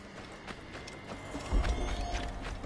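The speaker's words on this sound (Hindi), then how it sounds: "चलो ठीक है, चल घोड़े।" A horse's hooves clop and drum on the ground in the video game Assassin's Creed Origins, an uneven run of soft thuds at moderate distance with a heavier cluster midway, all over steady ambient game noise.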